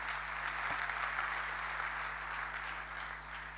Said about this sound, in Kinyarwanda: Amashyi menshi ku Mana yacu